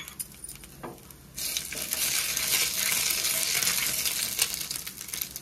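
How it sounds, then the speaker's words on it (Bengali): Dry red chillies and nigella seeds hit hot oil left from frying fish and burst into a loud, crackling sizzle after a quiet start with a few metallic clinks, then sputter steadily. "ওই তেলের মধ্যে ফোড়ন দিয়ে দেবো"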